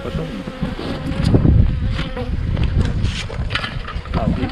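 A dense, loud swarm of defensive honeybees buzzing agitatedly close to the microphone at a hive during syrup feeding, continuous and intense with wind noise mixed in.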